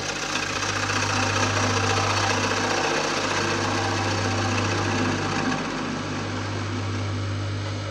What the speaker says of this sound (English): take it down with the gouge.